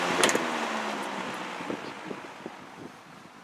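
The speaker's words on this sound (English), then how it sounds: "We'll go back to high. And we will do a spin down." A vintage GE W22 box fan, switched off from its high setting, spins down with a steady airy whoosh. The hum slowly fades as the blades lose speed.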